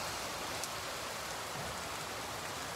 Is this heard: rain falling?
yes